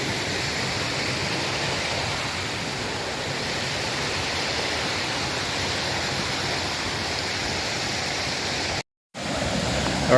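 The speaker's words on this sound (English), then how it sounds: "We're at the top of the first waterfall." The first waterfall at Ricketts Glen State Park roars as a loud, steady wash of falling water heard from close by at the top of the falls, broken only by one brief dropout near the end.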